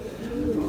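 Racing pigeons give a brief, soft coo, a low murmuring call heard close by in a loft.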